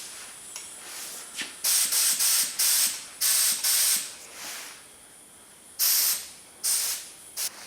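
A spray gun applying thin Ospho rust treatment on a junkyard golf cart hisses in short, sharp bursts, several close spurts separated by quiet gaps with faint handling noises.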